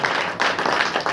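A church congregation claps together during a Saturday worship meeting, producing a dense, loud wash of clapping with a few uneven surges over a brief moment.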